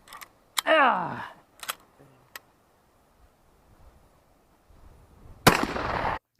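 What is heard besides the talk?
working the lever action of a Cimarron 1887 Winchester shotgun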